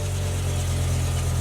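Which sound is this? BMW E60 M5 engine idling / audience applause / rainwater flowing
BMW E60 M5 engine idling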